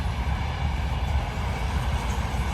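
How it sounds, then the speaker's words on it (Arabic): A passenger train passes nearby as a steady, loud rumble of wheels and rail noise that holds constant for the whole stretch, with no voices. "هذا قطار، طبعا هذا قطار مسافرين"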